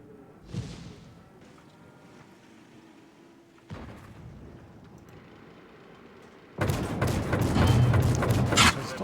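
Deep booming tank cannon shots in World of Tanks, a couple of separate thuds followed by a loud sustained roaring blast.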